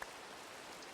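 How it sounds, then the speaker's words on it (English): Steady rain from the Sky Factory 3 video game, a soft continuous hiss of falling drops that stays even throughout, heard alone with no talking. "now it's raining more"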